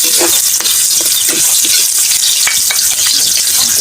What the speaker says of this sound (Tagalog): Gigisa lang po tayo.